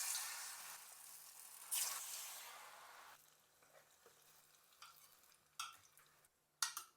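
Battered banana for beer pazhampori hisses as it fries in hot oil, a broad steady sizzle that fades after a few seconds, followed by scattered faint clinks and scrapes.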